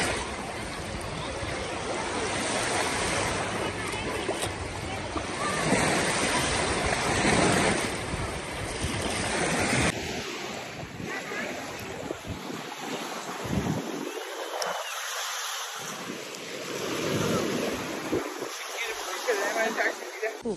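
Caspian Sea surf washing onto the shore, a steady broad rush under heavy wind buffeting the microphone, with no voices.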